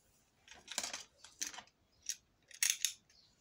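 Scissors cut paper for a handmade mini album, four crisp close snips in quick separate bursts with quiet gaps between them and no talking.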